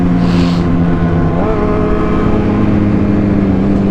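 A Yamaha R1 sport motorcycle engine drones loudly and steadily at close range, its pitch rising partway through as it revs for a wheelie.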